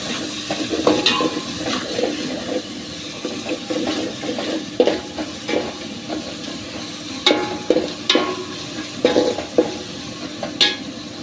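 A spoon stirs and scrapes through chicken being mixed with turmeric and salt in a pan, giving irregular close clinks and soft scraping strokes over a faint background hiss.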